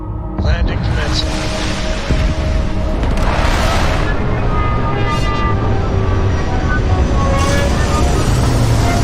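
A spaceship lands in Starfield with a loud, continuous roaring rumble, thrusters swelling and hissing in waves, close and heavy, with a voice speaking over it.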